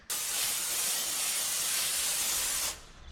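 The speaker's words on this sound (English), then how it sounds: "I'm trying to steam this crappy tint off the windows" A handheld steamer blasting steam to loosen old tint film from car windows, one continuous loud hiss that starts abruptly and stops after about two and a half seconds, close by with no talking.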